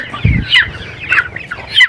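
Chickens cluck close by in short, repeated bursts, with a soft thump near the start.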